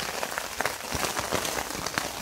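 Steady rain drums on a tent during an autumn camping trip, a dense, continuous patter with heavier drops hitting close by.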